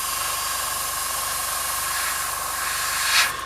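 An airbrush sprays red paint onto a Blood Angels drop pod miniature, producing a loud, steady, close hiss that holds evenly throughout and swells briefly near the end, with no voices.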